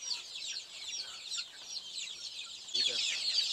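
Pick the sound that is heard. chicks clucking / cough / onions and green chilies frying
chicks clucking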